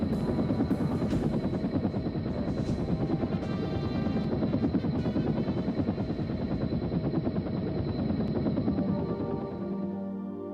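Loud, continuous thudding of helicopter rotors passing nearby at an airshow for about ten seconds, fading slightly at the end.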